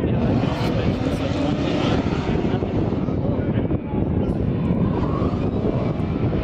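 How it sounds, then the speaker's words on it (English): A supercharged LS V8 car engine roars loud and continuous at a drifting event, with a steady, dense mechanical growl and crowd noise around it. "That's a supercharger LSV8, definitely."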